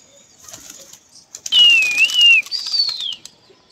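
A quick burst of wing flaps from pigeons taking off and flying close by, with a bright whistling tone through the wings, then fading.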